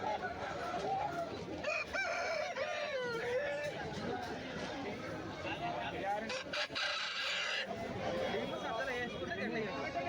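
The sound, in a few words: aseel fighting rooster crowing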